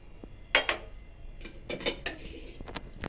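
Mixed dal of urad, masoor, split moong and moong mogar lentils being washed in a pressure cooker pot, giving a few clinks and clatters of metal with rustling in between, close and moderately loud.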